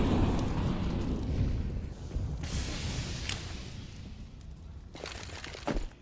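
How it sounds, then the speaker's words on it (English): A grenade blast during a Counter-Strike match on the Overpass map, a loud rumbling boom at the start fading into a long decay, with sharper crackling bursts later on. "Single nade over the top."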